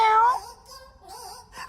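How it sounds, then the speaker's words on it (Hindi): A pet cat gives one drawn-out meow up close, then fainter mewing follows in short bursts. "मेरी बिल्ली"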